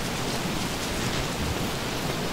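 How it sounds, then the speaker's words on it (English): Steady rain in the game Don't Starve Together, a dense even hiss of falling drops with a faint low rumble, continuous and close with no talk. "Yeah, it's the rain."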